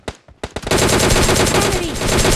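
Rapid automatic gunfire from the PUBG Mobile Lite battle royale game, a few isolated shots at first and then a dense, continuous burst of fire that stays loud and close to the end.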